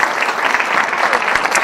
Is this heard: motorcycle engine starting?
no